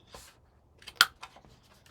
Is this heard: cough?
no